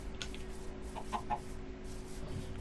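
A chicken in the video game Minecraft gives a few soft, faint clucks against a low, steady background hum.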